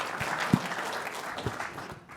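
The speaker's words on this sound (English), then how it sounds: "Round of applause for Adam as he makes his way up to the stage" Audience applause at a UK-US space collaboration symposium, a short burst of steady clapping from the crowd that thins out toward the end, with no speech over it.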